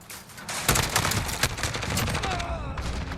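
SIG SG 550 rifle in Call of Duty Modern Warfare fired in rapid bursts, a dense stream of sharp, loud gunshots with brief breaks and a ringing tail.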